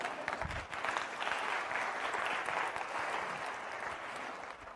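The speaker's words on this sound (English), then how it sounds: "You can clap. It's cool." An audience claps steadily in a lecture hall, a dense sustained patter of many hands that holds at an even level and tapers slightly at the end.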